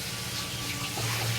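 Water is poured into a pan of frying paste made from chili powder, ginger, green chili and Kashmiri chili powder, making a continuous close rushing hiss that swells slightly toward the end.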